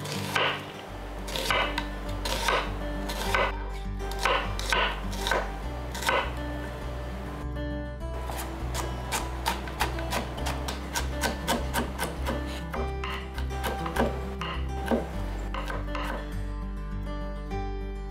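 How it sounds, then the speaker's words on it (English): A knife mincing an onion on a cutting board while a Korean soft tofu stew is prepared, giving fast, steady chopping taps with occasional pauses under continuous low background music, close and clear throughout. "Mince the onion first."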